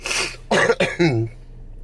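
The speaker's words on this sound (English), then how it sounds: "I'm gonna cough real hard." A man coughs hard several times in quick succession, close to the microphone, with a brief throat-clearing rasp at the end and no speech.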